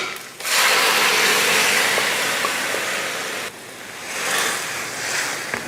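Goat intestine gravy boils in masala water, giving a steady loud broadband hiss and sizzle with a faint bubbling texture. It briefly dips midway, then swells again, with no voices over it.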